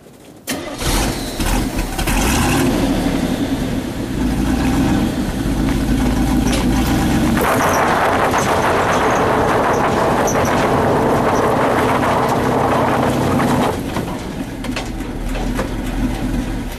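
An old Jimmy truck's engine revs hard and steadily for most of the stretch as its rear tires spin to gain traction, the loud roar rising midway and then easing near the end, with no talking over it.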